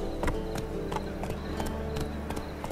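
Hoofbeats of the horse Roach galloping in The Witcher 3 video game, a steady rhythmic clip-clop of repeated strikes over a constant low ambient bed, close and fairly loud.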